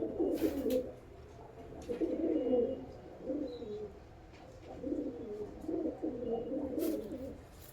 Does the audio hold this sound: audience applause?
no